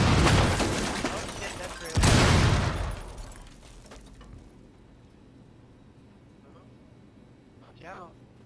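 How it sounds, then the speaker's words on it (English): Loud, close explosions in the Rainbow Six Siege video game, two heavy bursts in quick succession fading into quieter crackling debris, followed by a short faint sound near the end. "I like how the more explosions that goes on in the rooms, it's like really harder to see."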